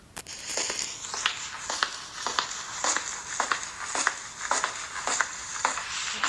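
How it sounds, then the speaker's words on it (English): Footsteps crunch along steadily, roughly two per second, with a gritty crinkling texture under a bright hiss, and no voices. "It was the sound of footsteps."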